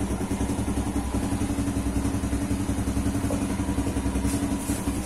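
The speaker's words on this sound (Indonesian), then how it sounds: "hari ini saya panasin motor karena soalnya jarang banget dipakai" A Yamaha Jupiter Z1 motorcycle idles while warming up, its engine putting out a steady, even pulsing chug at constant low revs, close and unrevved, with no talking.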